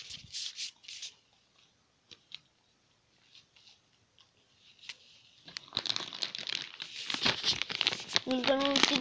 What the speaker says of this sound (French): Nous allons aussi déballer les Kinder.